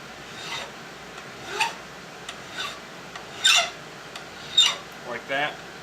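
Hand filing on the metal ejector of an H&R BayState 12ga single shotgun, with modeling clay packed around it to stop ringing: a few short, raspy strokes, soft and close, separated by pauses.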